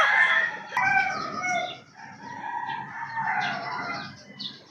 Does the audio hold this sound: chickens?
yes